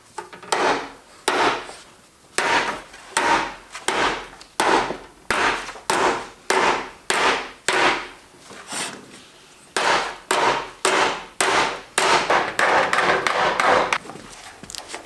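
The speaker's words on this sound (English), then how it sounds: "now I'm just gonna hammer it and holding this kind of up on an angle." Repeated hammer blows on the edge of a DIY composting toilet piece held at an angle on a wooden stump, about two dozen sharp, close impacts in a steady rhythm with brief pauses, ringing on wood.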